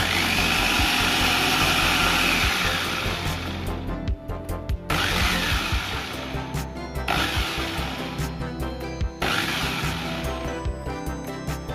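A Mitochiba CH 200 food chopper beats two eggs on level 1. Its motor whirs loudly and close in several bursts of a few seconds, broken by short pauses between runs.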